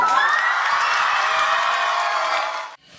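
A theatre audience at the Ayan youth theatre breaks into loud, dense applause and cheering during an on-stage marriage proposal, sustained and close, then cuts off abruptly near the end.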